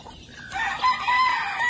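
Chicks peep in a high, thin series of short calls close by, running without pause, with no talk.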